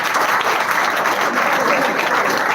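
Dense applause from an audience at a college event on future mobility greets a student, a thick, continuous patter of many hands that stays loud and even throughout.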